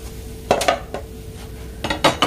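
A crisp leftover-dal paratha is lifted from the pan onto a plate, giving a few quick metallic clinks and scrapes of utensil against cookware over a faint background hum, close and fairly loud.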